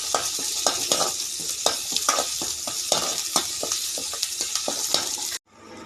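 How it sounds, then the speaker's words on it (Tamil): Onion, beetroot and tamarind sauté in a pan with a loud, steady sizzle, broken by regular spatula scrapes and taps about twice a second before it cuts off suddenly. "நம்ம பீட்ரூட்டும் புளியும் போட்டு வதக்கிக்கலாங்க."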